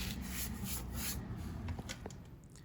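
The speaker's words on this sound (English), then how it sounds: "I ended up just using a 120 sandpaper grit on this, so then I'm just kind of going around the edges and just sanding back all those little chips" Hand sanding a painted old wooden window with 120-grit sandpaper makes close, rhythmic scratchy rubbing strokes that slow into a few lighter scrapes near the end.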